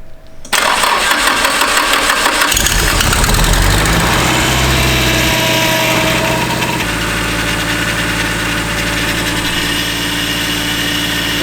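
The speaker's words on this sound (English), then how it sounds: "So it idles good now" A car engine cranks and catches, then settles into a loud, steady idle heard close up, with an even mechanical hum and vibration and no talking.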